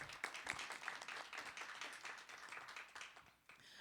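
Round of applause from an audience at a board of education meeting, steady dense clapping filling the room for about four seconds without a break.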